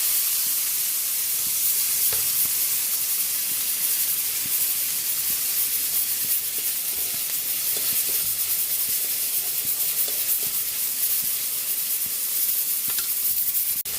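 Garlic, onion and tomato sizzle in a frying pan, a continuous bright crackling hiss with scattered small pops, held at a steady moderate level throughout and free of any talk.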